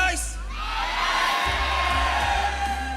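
A crowd at an MPL Malaysia Mobile Legends esports match cheers and whoops loudly and without a break, with shouts rising over a low, steady hum from the arena.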